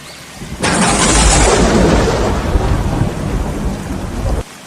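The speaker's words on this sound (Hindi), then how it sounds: "तभी अचानक जोरों की बारिश शुरू हो जाती है।" A heavy downpour starts abruptly in a cartoon, a loud roaring rush of rain with deep rumbling thunder underneath, then cuts off sharply near the end.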